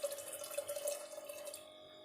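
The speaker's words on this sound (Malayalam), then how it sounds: "അപ്പം ഞാൻ നമ്മുടെ നല്ല കട്ടി തേങ്ങാപ്പാൽ ഇതിലോട്ട് ചേർക്കുന്നുണ്ട്." Thick coconut milk is poured into a Kerala-style padavalanga (snake gourd) curry, giving a soft, steady liquid trickle for about a second and a half before it stops.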